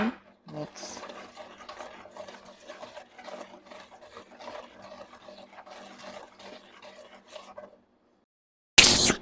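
Basbousa batter with oil is stirred in a bowl, giving a steady rhythmic wet scraping and swishing that repeats for several seconds before stopping, with a brief louder noise at the very end.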